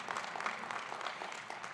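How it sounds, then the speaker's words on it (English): At a college commencement ceremony, an audience applauds steadily, a soft, distant, even wash of clapping from a large crowd. "Let's have some applause for Rosemary."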